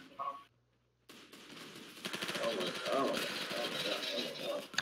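Rapid shotgun fire from a Roblox Arsenal match crackles loudly in a dense burst after a brief silence, with a player talking excitedly over the gunfire.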